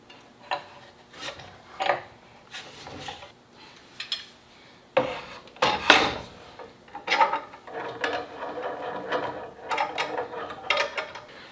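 Clamps are cranked down onto thin wood veneer, giving bursts of ratcheting, clicking and rubbing metal-on-wood sounds in irregular clusters, fairly close and alone, with brief quiet gaps between.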